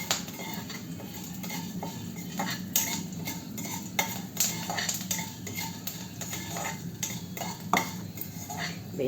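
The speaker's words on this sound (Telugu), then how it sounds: "పోపు వేగిపోతుంది" Tempering spices frying in a pan for cabbage curry, with a soft sizzle under repeated sharp clinks and scrapes of a metal spoon stirring against the pan, close and fairly quiet.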